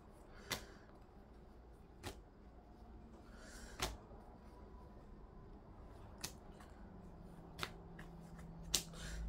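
Stack of arithmetic flashcards being shuffled by hand: a handful of sharp, separate card snaps and riffles spaced a second or two apart, close and clear over a quiet room hum, with no talking.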